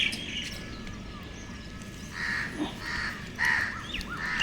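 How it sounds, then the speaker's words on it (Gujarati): Crows gather to be fed and give several caws at moderate distance, spaced irregularly over a steady outdoor background hum with faint insect chirping. "જો આ કાબેરો કાગડા આવી ગયા છે."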